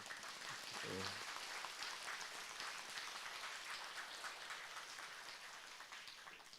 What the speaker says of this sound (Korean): 큰 박수 한번 부탁